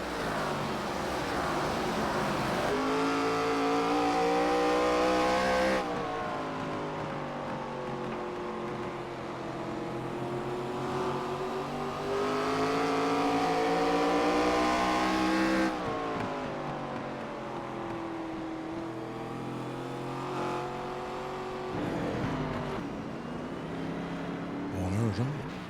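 Race car engines in an elite-division race at Nashville, a continuous droning roar with rising and falling pitch as cars pass and accelerate, moderately loud and sweeping in waves, with faint voices underneath.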